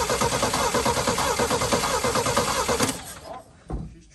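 An old Chevy K10 squarebody pickup engine cranks in a fast, even, loud rhythm for about three seconds, then the starter stops and a brief cough follows without the engine catching.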